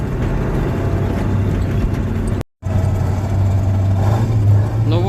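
Volkswagen Polo with a manual gearbox crawling along in first gear, a steady close engine drone with a low hum, briefly cut off by a short gap partway through.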